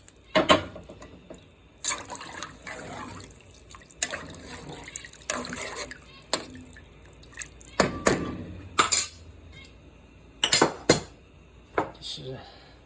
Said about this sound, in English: I'm adding the water in there.